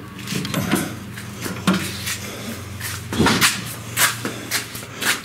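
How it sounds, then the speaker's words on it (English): The back door of an off-road camper trailer opens with a few knocks, a latch clunk and rattling handling sounds, fairly close and intermittent. "Let me open this back door up."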